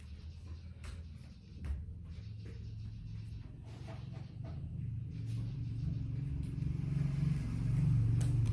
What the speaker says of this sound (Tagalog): may dumaan tricycle